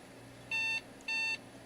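Two short electronic beeps from a Dell Inspiron 545s desktop at startup signal an error, evenly spaced, clear and fairly loud over a faint background hum.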